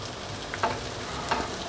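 Crispy pork being stir-fried with red curry paste in a wok over medium heat, a steady soft sizzle with two brief louder scrapes of the spatula, close and alone.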